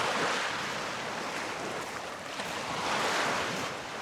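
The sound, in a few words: waves breaking on a lakeshore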